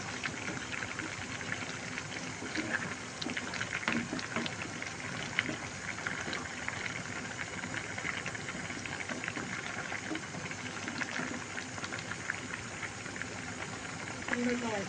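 Vegetables simmer and boil in a covered pan, a steady low bubbling hiss continuing throughout with faint clatter, no clear voices.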